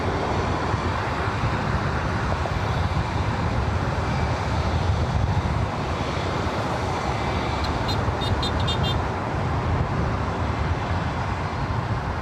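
A Lufthansa Boeing 747-8 Intercontinental arriving from Frankfurt roars in to land, a dense continuous broadband engine rumble holding steady and loud throughout.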